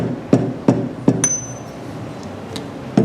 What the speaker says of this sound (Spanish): lo golpeamos con un martillo de goma de la siguiente forma